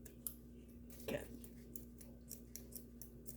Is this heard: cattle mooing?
no